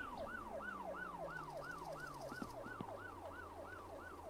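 A wailing police siren in the video game My Summer Car sweeps up and down steadily and repeatedly, loud and continuous, over a low engine hum.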